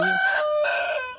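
A rooster crows once at close range, a loud, drawn-out call of about a second with no talking over it.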